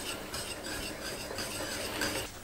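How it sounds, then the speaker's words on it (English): Diced ham is folded gently into a cheese béchamel for French ham and cheese rolls, making a steady, soft, wet stirring and scraping of a utensil through thick sauce, close up and continuous with no talking. "you're gonna mix it in gently"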